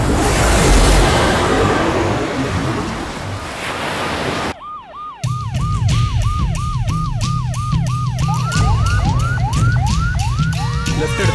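An ambulance siren wails in a repeating rising-and-falling pattern, loud and close, after several seconds of rushing background noise and a brief dip in sound, with the cycles speeding up toward the end.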